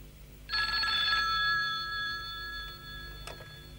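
A telephone bell rings once in a short burst of bright metallic trilling, fairly near, then fades into quiet room tone with a faint knock afterward.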